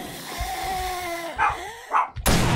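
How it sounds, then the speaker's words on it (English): A dog barks in the 7 Days To Die survival game, a couple of short sharp barks with whimpering tones, preceded by a faint wavering whine and ending in a burst of noise. "Stop barking at everything."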